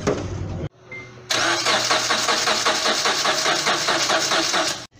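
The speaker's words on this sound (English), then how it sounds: "we still want the car to crank, just not start, so that we can test to see how many amps are coming from the starter" A car's starter motor cranks the engine with the ignition fuse removed so it turns over without firing, a fast steady mechanical churning that runs for several seconds after a short pause, close and loud, then cuts off abruptly.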